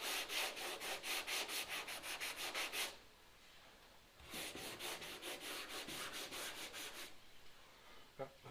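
Hand sanding a Ford XY sedan body panel with 80 grit sandpaper: quick, steady back-and-forth rasping strokes in two runs with a short pause between, close and fairly quiet.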